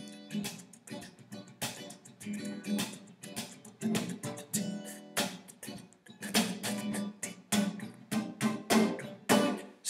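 Acoustic guitar strummed fingerstyle with the thumb, pushing into the strings, giving soft irregular chord strums with quick brushed attacks, close and alone.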